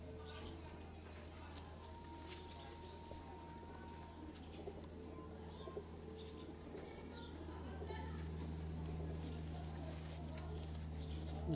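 Pigeons of a breeding pair coo softly in a loft, low murmuring calls under a steady background hum, with faint rustling and occasional wing or foot sounds.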